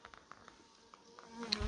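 Escaped honey bees from a spilled swarm buzz close by, with faint intermittent wingbeat hums and a louder bee passing near the microphone at the end.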